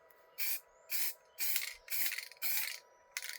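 An aerosol can sprays black paint onto an interior trim part of a TVR car in five or six short, even hissing bursts separated by brief pauses, close and clear with no talk.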